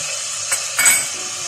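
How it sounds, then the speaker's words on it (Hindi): Garlic ginger paste hits hot oil in a pan of fried potatoes for aloo gosht, giving a steady hiss with a couple of brief stirring clinks; no talking. "अब इसमें हम 2 खाने के चम्मच भर के लहसुन अदरक का पेस्ट डाल देंगे और इसको फ्राई करेंगे"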